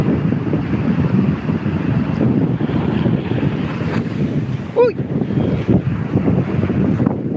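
Sea waves wash and churn at the shoreline of a beach, a loud continuous rumble with heavy wind buffeting the microphone and a brief higher sound midway.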